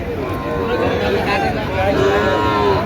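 Cattle, including large and medium bulls, moo amid a busy livestock market crowd in Chuadanga, Bangladesh, with continuous loud chatter and background bustle filling the space around the lowing animals.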